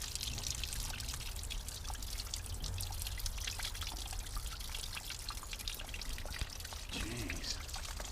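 Water pours and trickles out of the engine pulled from a 1964 Ford F350 dump truck, a steady splattering stream running throughout at low level with a faint voice near the end.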